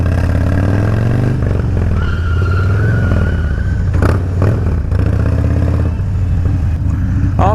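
Motorcycle engine revving hard and steady during a rain stunt slide on a worn rear tire, loud and close throughout with a brief burst of clatter midway.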